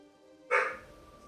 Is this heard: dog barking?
yes